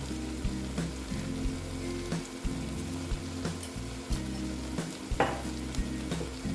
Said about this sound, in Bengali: এবার আমি এখানে অ্যাড করব অল্প কাঁচা তেল